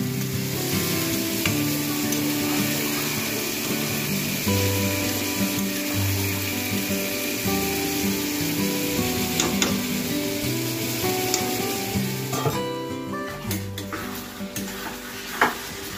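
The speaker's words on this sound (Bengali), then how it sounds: "এটাকে ভালো করে কষবো, তারপর খিচুড়িতে দেবো" Chicken pieces sautéed dry in a pan for chicken khichuri give a steady, close sizzle with scraping stir strokes and a few sharper clinks near the end, no voices.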